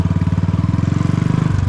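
Modified Royal Enfield Bullet motorcycle engine with a loud, close, steady thumping exhaust beat, evenly pulsing throughout.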